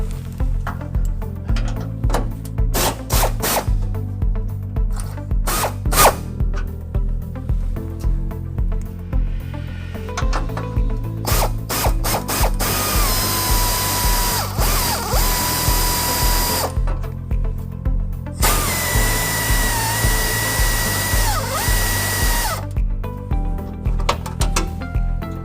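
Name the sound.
power tool loosening bumper bolts on Toyota Tacoma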